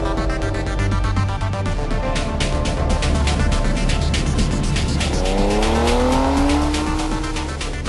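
Ferrari car accelerating hard across smooth salt flats, a loud, close engine roar with tire squeal and skidding, pitch climbing steeply through gears in the second half.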